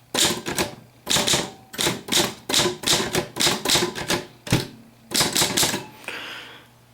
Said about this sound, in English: So we're going to go ahead and type something in red